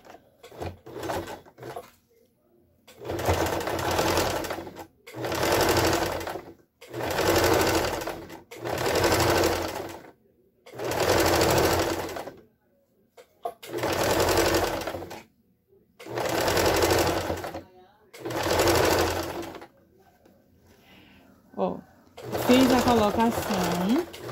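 A sewing machine stitches a seam along the edge of fabric in about eight steady runs of rapid mechanical chatter, each a few seconds long and separated by short pauses. The machine is loud and close, and someone talks briefly at the start and end.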